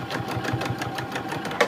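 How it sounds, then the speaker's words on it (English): A sewing machine stitches fabric while sewing a waterproof-lined zipper pouch, giving a quick, even run of rhythmic mechanical clatter close up for under two seconds, with no talking. "I'm going to stitch that a little bit further in just so that it will catch that fabric"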